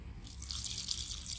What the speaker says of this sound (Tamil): கொஞ்சம் தண்ணி எடுத்து ஊற்றணும்.